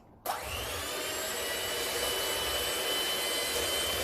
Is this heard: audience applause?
no